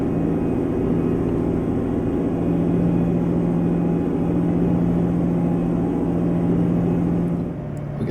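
A Mack R truck with a 237 hp engine drones steadily in American Truck Simulator, a loud low humming rumble under load that holds even, then briefly dips near the end.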